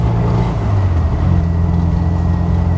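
1972 MG Midget engine heard from inside while driving, a loud steady low drone with a slight shift in pitch midway as the engine note changes, continuous and close with no talk.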